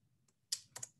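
A few sharp, close keystrokes on a computer keyboard as a title is typed into a form: two or three quick clicks within a second, with no talking.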